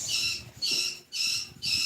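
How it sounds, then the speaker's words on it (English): Pet birds squawk indoors in four loud, shrill bursts with brief gaps between them, harsh and close, with no talking. "Please pardon my birds having opinions."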